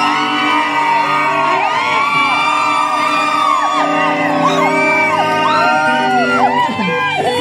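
A street worship crowd lets out a loud, joyful burst of shouts, whoops and yells, many voices overlapping continuously at close range.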